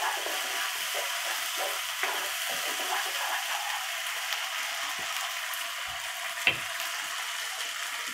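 Spice masala for hilsa pulao stir-fried in a pan, a constant close frying hiss with occasional light clicks and scrapes from stirring, no voices.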